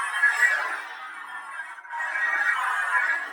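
A Darksaber sound effect from a lightsaber toy, playing as a steady electronic hum with a brief dip in the middle, moderately loud and with no talking.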